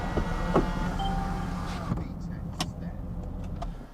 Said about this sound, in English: So we'll run that roof over.